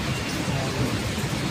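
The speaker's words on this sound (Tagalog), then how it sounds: "Malakas na naman yung ulan." Heavy rain pours steadily, a dense, loud wash of drops drumming on surfaces near a PNR train station, continuous with no voices.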